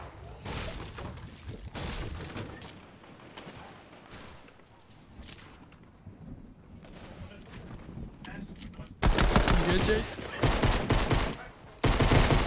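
Video game shotgun blasts and heavy gunfire come in loud bursts, with a quieter stretch in between, mixed with game sounds and talking.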